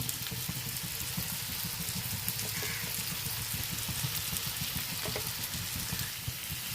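Turmeric and chilli powder frying in a pan over low heat while being stirred, a steady soft sizzle with faint scraping, no one speaking.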